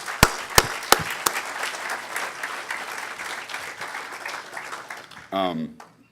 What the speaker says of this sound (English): A round of applause for you too.